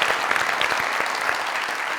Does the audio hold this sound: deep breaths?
no